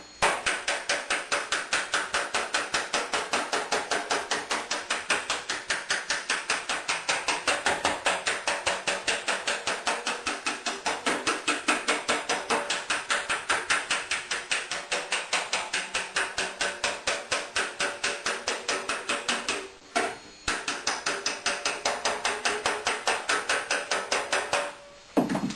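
A hammer knocks a dent out of a thin car fender held against a backing bar, a rapid, steady run of sharp metallic strikes close by, with two brief pauses near the end.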